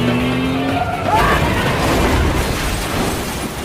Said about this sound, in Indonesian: mobil yang dikendarai Pak Polisi akhirnya terguling